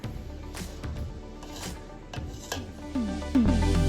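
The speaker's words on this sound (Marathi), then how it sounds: "आता ही सगळी भांडी तुम्हाला धुवून टाकते." Metal utensils and pots being washed in a home kitchen, with scattered clinks, knocks and scraping clatter, plus running water growing louder near the end.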